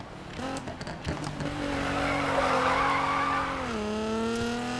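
A 2017 Nissan GT-R in Need for Speed 2015 slides with a sustained tire squeal over a steady, high-revving engine drone that shifts pitch near the end, loud and close.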